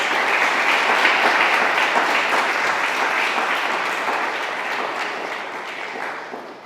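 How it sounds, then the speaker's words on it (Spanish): A church congregation applauds loudly and steadily during a Spanish-language sermon, a thick wash of many hands clapping that gradually fades toward the end. "¿Cuántos le dan un fuerte aplauso al Cordero de Dios?"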